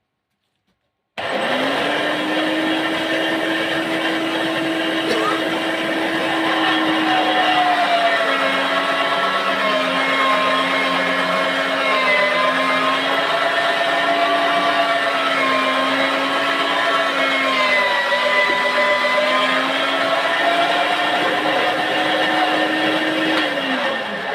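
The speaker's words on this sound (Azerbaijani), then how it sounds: "Soğanı çəkək." An electric grinder grinding onion, a loud steady motor whine starting abruptly and running continuously close up, its pitch dipping slightly as the load shifts.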